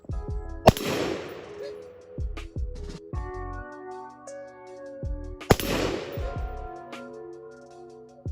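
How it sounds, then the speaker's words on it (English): Two sharp gunshots ring out at a shooting range a few seconds apart, each a loud crack followed by a decaying echo, with faint voices speaking quietly between them. "All right, let's fire."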